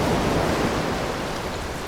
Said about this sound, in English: This wind makes me feel unstoppable.